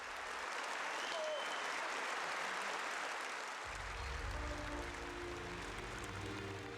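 Audience applause after a Korean children's troupe's song-and-dance touring performance, dense sustained clapping from a large crowd, with low rumbling sound entering partway through.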